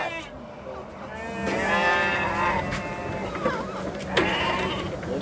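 Goats bleat repeatedly while being loaded onto a Tata 1109 truck, several overlapping calls at moderate distance with outdoor background noise.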